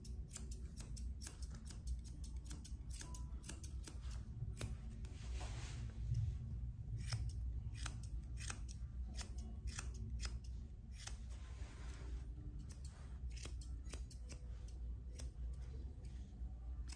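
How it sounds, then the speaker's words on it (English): Artero Fusion curvy grooming shears snip rapidly and repeatedly through a Shih Tzu Bichon mix's coat during a teddy bear trim, with crisp close-up clicks in quick uneven bursts over quiet background hiss. "These are my Fusion curvy shears from Artero."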